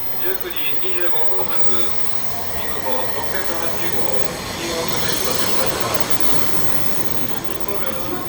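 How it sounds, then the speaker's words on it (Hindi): Steady rumble and rail noise from inside a bullet train travelling at night from Kobe to Osaka, Japan, a continuous loud hum with faint clatter and wheel squeal throughout, with voices faintly in the background. "रात के सफ़र में मैं बुलेट ट्रेन में कोबे से ओसाका जा रहा हूँ।"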